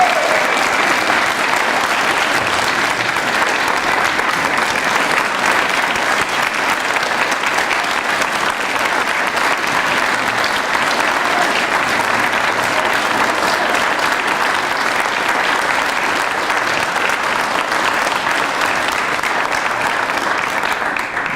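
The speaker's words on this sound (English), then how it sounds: "Why don't we give a big hand to the firefighters?" Long, steady applause from a packed town hall meeting crowd honoring firefighters who battled the 2016 Deer Fire, dense even clapping holding for over twenty seconds without letting up.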